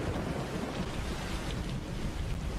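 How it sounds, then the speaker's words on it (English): Heavy rain pours outside with a low rumbling of thunder mixed into the steady roar, dense and continuous throughout. "It's actually raining where I'm at here,"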